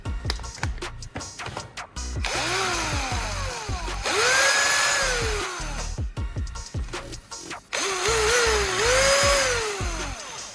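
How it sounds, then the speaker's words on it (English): A cordless drill, powered by a repaired battery pack, whirs up in two long bursts with rising and falling motor pitch between short pauses and clicks, close and loud. "I attach the pack to the drill and press the trigger"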